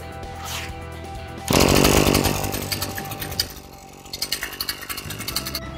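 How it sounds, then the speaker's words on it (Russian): A hot petrol grass trimmer starts on a pull of the starter cord and bursts into a loud, buzzing two-stroke roar close by, then settles into a rough idle with pulsing revs. "Просто включаем выключатель и дергаем стартер."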